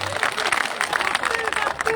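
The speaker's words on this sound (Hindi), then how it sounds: "इसलिए उनके लिए ताली बजाना चाहता हूँ" A crowd at a political party rally in India bursts into applause, dense rapid clapping heard close, with a voice speaking over it.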